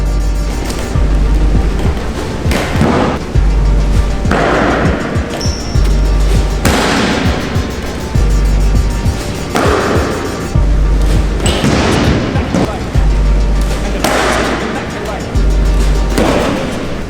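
Box lacrosse shots strike the goal and boards in an indoor arena, a series of loud sharp bangs at intervals over a constant loud rumble.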